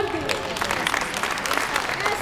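Applause from an audience at a Spiritist association's anniversary gathering in Guatemala, a steady wash of clapping with speech-like sounds mixed in throughout.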